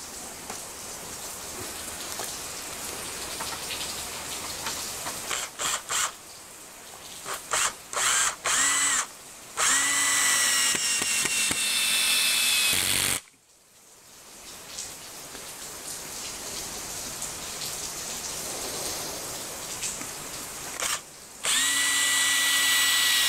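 A power drill bores 3/16 inch holes into a workbench board in a garage, with several short whirring bursts and longer sustained runs, pausing between holes against a hissing background.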